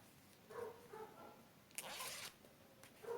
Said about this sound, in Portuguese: agora a gente vai botar o zíper